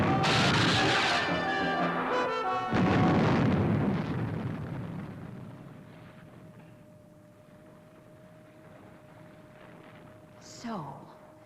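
Missile ignition and launch effect from a Fireball XL5 puppet science-fiction scene: a loud roaring blast that slowly fades into a steady hum, ending with a brief rising whoosh.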